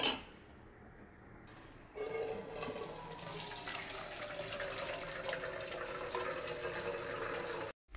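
Water runs steadily from a kitchen tap into a vessel while a sweet lentil filling for bele holige is being made. It starts after a quiet pause, with a gradually rising filling tone, and then cuts off abruptly near the end.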